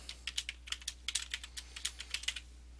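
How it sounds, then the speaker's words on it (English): Someone types on a computer keyboard nearby, with quick, irregular clusters of crisp key clicks over a faint steady hum and no talking. "type in your username that you'll get at the meeting"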